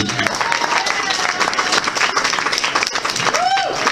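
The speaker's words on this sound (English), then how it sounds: "Give yourself a round of applause." A comedy show crowd applauds loudly and continuously, with a few voices and a rising whoop mixed into the clapping near the end.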